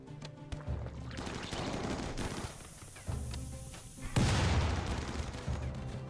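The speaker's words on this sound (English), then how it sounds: "It's a heat-seeking frag grenade." Grenade blast and rapid gunfire from the RimWorld video game, with a dense burst of fire, a broad explosive roar near the middle, and continuous crackling battle noise throughout.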